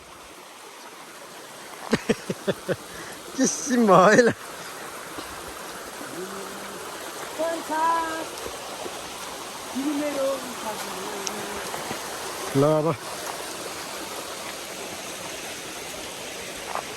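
A village stream in the hills flows with a steady broadband rush throughout, while people talk and call out intermittently over the water.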